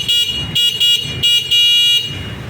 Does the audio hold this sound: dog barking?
no